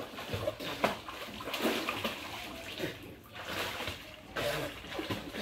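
Floodwater sloshes and splashes inside a house in uneven surges, moderately close, with a person talking intermittently over the watery movement.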